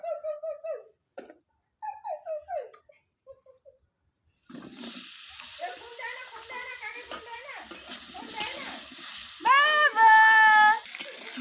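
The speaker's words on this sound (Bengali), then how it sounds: "মাছের জন্য আলুটা আমি ভেজে নেব" Potatoes are dropped into hot oil left from frying fish, and a steady sizzle starts partway through. Before it, brief voice-like tones come in short bursts, and tonal calls rise over the frying near the end.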